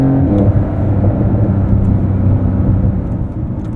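A 2023 Porsche 911 Dakar engine drones loudly and steadily up close while driving, a continuous low rumbling whir with no voices.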